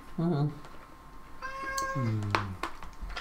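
A cat meows repeatedly nearby, a few drawn-out, clear calls with rising and falling pitch, interspersed with a person speaking quietly.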